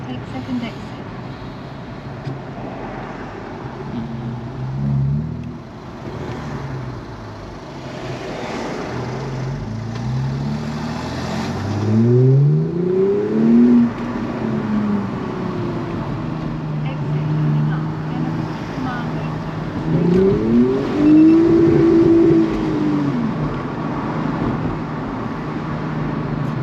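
A Lexus IS250 with a back box delete exhaust, heard from inside the car over a constant road drone, revs twice with rising and falling engine pitch, the second rev near the end.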